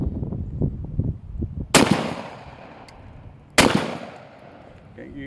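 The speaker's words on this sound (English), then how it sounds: "I'm going to shoot the old steel silhouette one time." A Stevens 12 gauge double barrel shotgun is fired at a steel silhouette: two loud, sharp blasts about two seconds apart, each with a ringing decay, after some brief low talk at the start.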